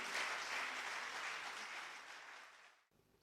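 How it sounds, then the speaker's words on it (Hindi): Audience applause at a poetry mushaira gathering in Bahrain, a dense, steady wash of many hands clapping together, fairly far off, that fades toward the end and cuts off abruptly. "बहुत सी तालियां उनकी"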